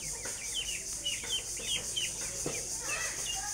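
Chickens at a rural family home cluck and chirp nearby in a busy, irregular run of short calls, with faint background noise.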